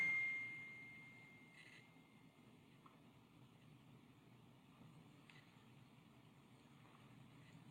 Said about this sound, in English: sorry, my phone.